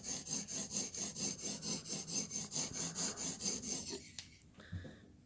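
Knife edge worked back and forth on a TSPROF Blitz 360 sharpening stone, steady rhythmic abrasive strokes for about four seconds, close and fairly loud, then the scraping stops and a few light handling clicks follow.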